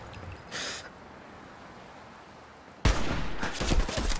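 Fallout 4 gunfire: a brief burst near the start, a quiet lull, then a loud, close volley of rapid shots breaks out and keeps rattling to the end.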